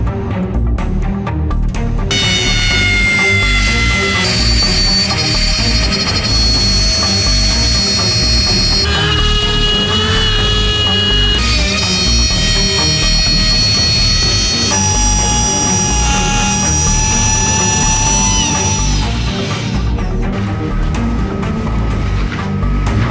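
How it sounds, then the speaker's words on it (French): Wood router running steadily while cutting the edge of a wooden piece, a loud, continuous high whine with shifting tonal pitches over a heavy low hum, lasting throughout without pause. "Je viens de couper le bord avec la défonceuse"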